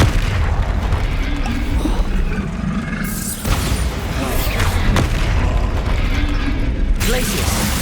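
Spell combat in the Hogwarts Legacy video game, with a Bombarda explosion spell going off as a heavy boom amid continuous clanking mechanical game noise and muffled effects, loud and dense.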